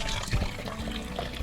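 Water is scooped and poured at a Kyoto shrine purification basin, a short close splash and trickle with faint background murmur.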